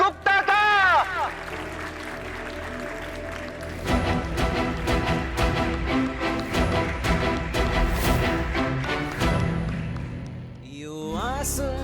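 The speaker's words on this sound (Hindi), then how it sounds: "जोरदार तालियों से स्वागत करिए निनाद गुप्ता का" Studio audience on a television game show applauding to welcome a contestant, a dense sustained wash of clapping for several seconds after a host's voice and music, then fading as music swells again.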